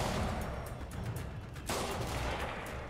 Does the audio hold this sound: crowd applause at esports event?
no